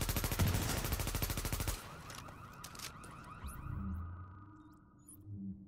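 Rapid automatic gunfire in a Division-style shooter, fired while the player's character is on fire, rattles loudly in a fast burst for nearly two seconds, then gives way to quieter crackling and low rumbling game ambience.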